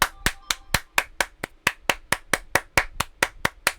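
One person claps hands at a steady, even pace, about four sharp claps a second, each crisp and close in an otherwise quiet room.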